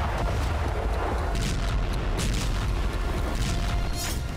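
Several explosions from a drone attack in Belgorod, heard as heavy, continuous rumbling booms that blend into one another. The sound is loud and dense, with no talk over it.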